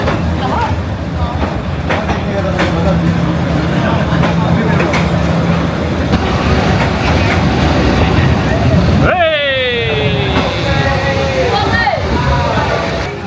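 A passenger or freight train rolls along Hanoi's street-side rail line, a long continuous rumble and clatter close by, topped near the end by a rising horn-like tone, with talk over it.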